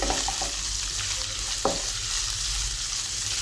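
Sliced onions sauté with soya chunks in a pan, producing a continuous close sizzle with a single brief scrape or clink partway through and no voices.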